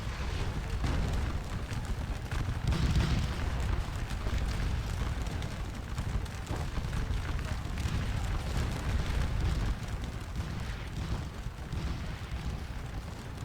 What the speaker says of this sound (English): the artillery is still pounding at us